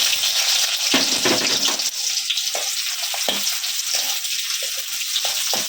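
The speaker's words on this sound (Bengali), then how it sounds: "এবার আমি একটু পেঁয়াজ কুচিয়ে দিলাম এর মধ্যে" Chopped onion and dried red chillies frying in a pan for a vegetable dish, a steady loud sizzle with intermittent stirring scrapes throughout.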